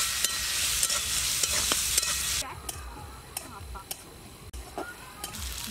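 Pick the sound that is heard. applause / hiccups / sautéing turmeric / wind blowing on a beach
sautéing turmeric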